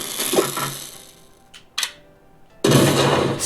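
Mollo's gun fires in Rivals of Aether: a few brief, sharp clicky shots spaced apart, separated by quiet, between longer bursts of game noise.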